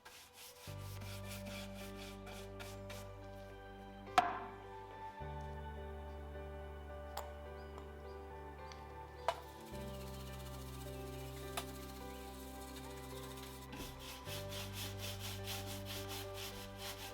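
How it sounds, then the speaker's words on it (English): A wax brush applies Howard Feed and Wax polish to wooden furniture, making a soft, steady rubbing and scrubbing sound with a few sharp taps, quiet and close with a low hum underneath. "I'll now apply Howard Feed and Wax Wood Polish and Conditioner using a wax brush"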